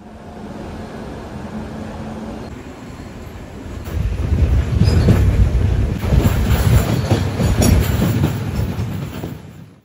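Amrit Bharat Express train passing close by, a loud steady rush of wheels and rail clatter building after a few seconds amid wind buffeting on the microphone, with no talking.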